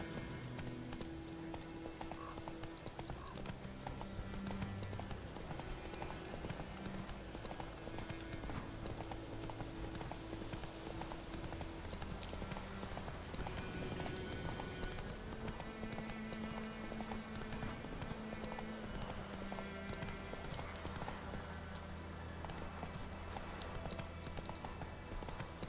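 A horse gallops along in The Witcher 3 video game, its hooves clip-clopping in a steady, continuous rhythm over game music and ambience, moderately close and even in level throughout.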